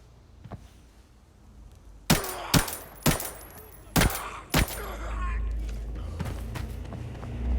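PP submachine gun fire in a video game, five loud, sharp shots spaced about half a second apart. Quieter footsteps and movement fill the gaps and follow afterward.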